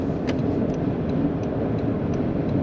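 A Toyota Grand Highlander accelerates in sport mode, heard from inside the cabin as a steady, even engine drone under road rumble. The sound holds without a break.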